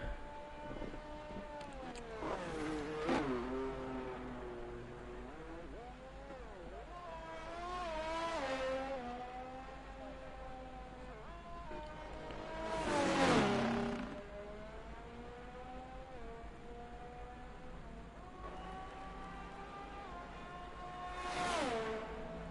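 Race car engine sounds far off as the car drives around a track warming up its tyres, with repeated rising and falling revs and several louder swells at intervals.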